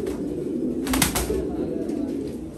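A male racing pigeon coos close by in a soft, throaty rolling call that swells briefly in the middle, over a steady background murmur.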